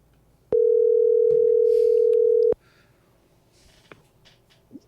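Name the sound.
telephone line tone after a dropped call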